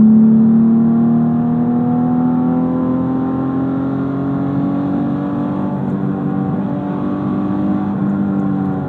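A 2006 Mitsubishi Eclipse GT engine revs during a heel-toe downshift while driving, a loud, steady engine drone with a gradual pitch shift as revs are matched, continuous and close with no talk.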